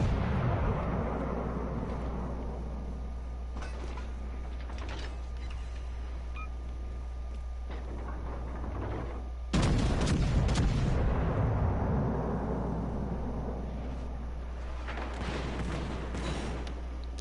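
Torpedo explosions in a PS4 naval video game: a deep, rumbling boom hits hard midway, over a steady low drone, with further muffled blasts and crackling rumble before and after.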